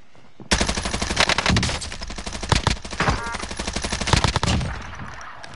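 Loud, rapid bursts of XM4 assault rifle fire in a video game, nearly continuous with brief pauses, close and harsh, with no voices.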